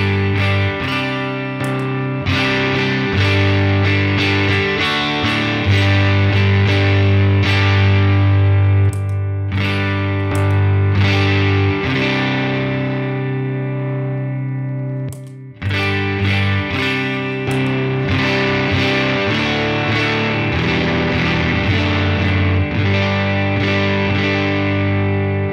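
An electric guitar runs through an overdrive pedal on the M drive setting, its sustained distorted chords ringing out loudly with a worship-style tone and letting notes decay before a brief break and a fresh strum near the middle.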